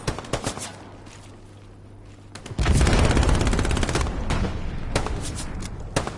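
Heavy machine gun fire in the video game Hell Let Loose: scattered sharp shots at first, then a loud sustained automatic burst that hammers on close by for several seconds, with a few separate cracks near the end.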